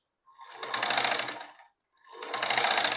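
Sewing machine stitching a ladies' salwar, two sustained whirring runs of rapid needle chatter, each rising to full speed and easing off, with a brief pause between them, close and clear.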